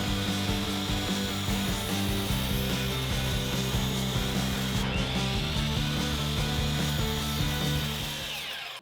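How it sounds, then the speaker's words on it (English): A miter saw runs steadily as it cuts through a wooden board, giving a loud, continuous buzzing whine that holds at full volume for nearly nine seconds before starting to fade. "Make a line and head to the miter saw."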